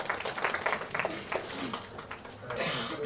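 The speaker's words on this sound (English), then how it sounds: "let's give a huge round of applause for Dr." An audience at a book release event gives Dr. Satyanarayan Sahu a round of applause. The clapping is faint and steady, a dense patter heard from a distance, with some murmuring voices underneath.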